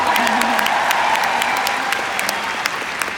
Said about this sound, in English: Give yourself a round of applause if you know how to do it too